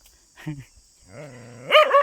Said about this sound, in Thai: ไม่เห่าลูกไม่เห่าพอแล้ว